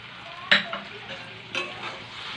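Mustard paste dropped into a hot pan for a Bengali stir-fry of taro stolons with fish, giving a sharp sizzle and stir clatter near 0.5 s, a softer second burst near 1.6 s, and low frying hiss throughout.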